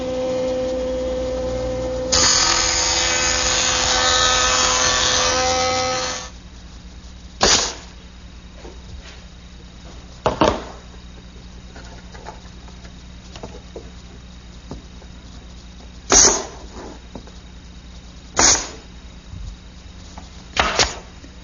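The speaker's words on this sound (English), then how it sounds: "I'm going to make a couple passes through the joiner" A jointer planes 3/4 inch wood stock in a woodworking shop, giving a loud four-second cutting roar, then falls quiet apart from scattered sharp knocks and taps of wood being handled.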